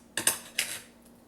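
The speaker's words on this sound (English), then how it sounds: "I'm cutting off the little toothpicks with my kitchen shears" Kitchen shears snip toothpicks out of browned beef rouladen, giving three quick, close metallic clicks followed by a faint trailing clink.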